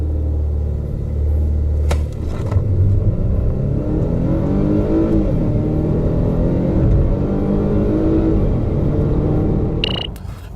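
A car with a 2-liter engine, likely around 200 horsepower, accelerates hard through its gears, its engine note rising loud and steady with a deep rumble for about ten seconds before a brief change at the end. No one speaks.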